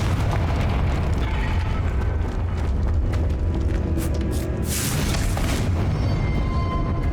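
A Confringo fire spell bursts into an explosion in the Hogwarts Legacy video game, giving a loud rumbling boom with a roaring, sustained blast and a bright crackling flare partway through, and no voices over it.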